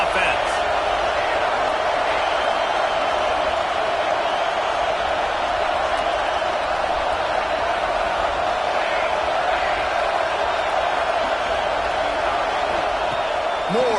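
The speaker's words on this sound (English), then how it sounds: "This crowd trying to make life miserable for this offense" A football stadium crowd roars steadily during an offensive play, a loud, unbroken wash of noise that holds at the same level throughout.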